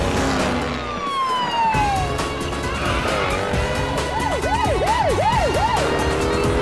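Cartoon cars in a drag race: a loud roaring engine with whining pitch sweeps, screeching tires and a wailing siren rising and falling over a continuous dense mix of racing effects, with no talking.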